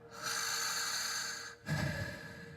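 Two close breaths, a long airy exhale followed by a short pause and a quicker, rougher breath, quiet and intimate.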